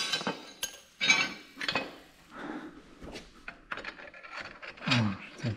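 A ratchet tightens a bolt on a 2022 Kawasaki Z650 motorcycle, giving close, intermittent bursts of metallic clicking and clinking separated by short pauses.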